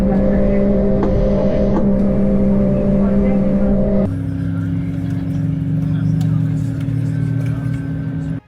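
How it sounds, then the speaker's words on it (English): Ibom Air Airbus A220 jet engine spooling up on start, heard from inside the cabin as a loud steady hum with strong low tones that shift and thicken partway through, then cuts off abruptly at the end. "we have a good start on the right engine"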